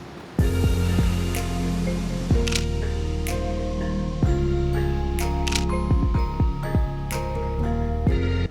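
Nikon D200 DSLR shutter firing as several sharp, close clicks at irregular intervals over steady background music.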